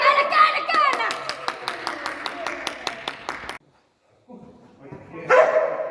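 A large dog barks in rapid, evenly spaced bursts for several seconds during agility training at a summer camp, with a person talking over it; a brief silence follows, then more voice.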